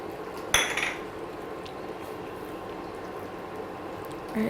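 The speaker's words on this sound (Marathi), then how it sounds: "या ठिकाणी माझ्याकडे अर्धा वाटी फ्रोझन मटर आहे, तो घालतो" Frozen peas tipped into a pot of simmering paneer curry, one sharp clattering spill against the metal followed by soft bubbling and faint stirring clinks.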